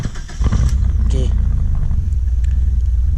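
A car engine idles steadily right after starting, a loud, close low rumble that holds even throughout, with a brief higher mechanical whine near the start.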